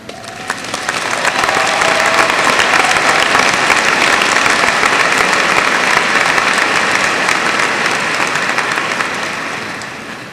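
An audience at a 2002 Lake Stevens-style high school graduation ceremony applauds teachers standing in the crowd, a loud continuous clapping that swells in, holds steady and tapers near the close.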